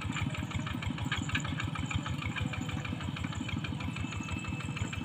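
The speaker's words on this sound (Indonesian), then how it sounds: "Ini traktor dari Palestina." A Palestinian-made tractor engine runs steadily as it passes between fields, its close, loud, even chugging rhythm continuing throughout with no talk.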